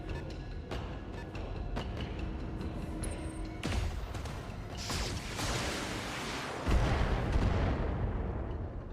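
A heavy gun fires in the Battletech video game with booming, crackling discharges over a dense, continuous roar of battle and machinery, loud and close throughout.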